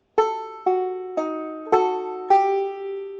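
Five plucked string notes ring out one after another at a steady pace, each with a bright attack and short decay, banjo-like fifth-string fillers.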